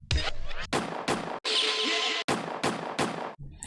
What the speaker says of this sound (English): Some gunshots, why not?